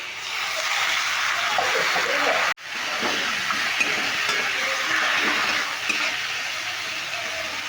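Masala and potatoes for a red radish curry sizzling in a pan while being stirred, a dense steady frying hiss with occasional utensil clinks and a brief dropout partway through.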